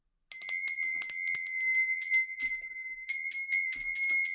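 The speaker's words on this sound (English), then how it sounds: "I'm just going to ring the bell." A hand bell is rung in quick, bright dings, a steady run of close ringing strikes with a short pause near the middle before it resumes.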